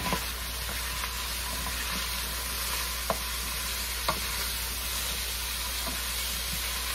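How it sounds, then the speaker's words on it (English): Celery sizzles steadily in a hot soup pot for tomato soup, a constant close frying hiss broken by a few faint clicks, with no voices. "So I'm going to go ahead and put the celery in"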